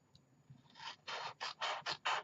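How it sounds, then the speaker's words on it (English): Scissors snip through paper along a score line for a small 4x4 gift box, a run of five or six crisp, close cuts in quick rhythm with brief pauses between, no voices. "I'm going to cut along the score line"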